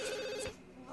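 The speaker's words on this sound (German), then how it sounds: "Oh, dieses verfickte Telefon, ey." Telephone in The Sims 2 video game ringing with a bright electronic trill, two quick rings close and clear, then fading to quiet.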